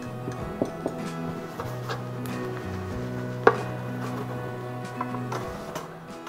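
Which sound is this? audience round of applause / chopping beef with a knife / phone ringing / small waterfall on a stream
chopping beef with a knife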